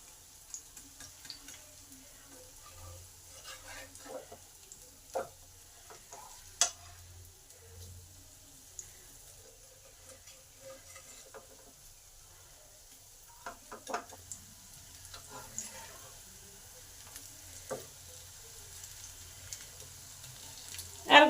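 Homemade evening snacks fry in a pan over medium gas heat, giving a soft, steady sizzle with occasional clinks and scrapes from stirring.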